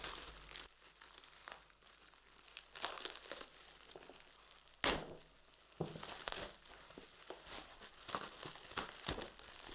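A TP-Link AX1800 router is unwrapped from its cling film, with close, quiet crinkling and rustling in uneven bursts and one sharp louder crackle midway. No voices.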